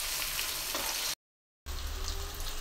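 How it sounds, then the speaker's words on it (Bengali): Fish rubbed with turmeric and chili, lightly frying in a pan, gives a steady, close, dense sizzle that cuts out for a brief silent moment and then resumes just as strongly. "মাছটা আমি বেশি ভাজবো না, হালকা ভেজে নেব"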